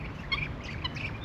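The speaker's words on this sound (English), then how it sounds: "I love Muscovy ducks." Muscovy ducks on a farm, making faint soft calls and breathy hisses over a low background rumble, a few brief utterances within a second or so.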